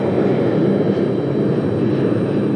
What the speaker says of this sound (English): We've got that 757-200 off to Memphis for UPS coming up in just a second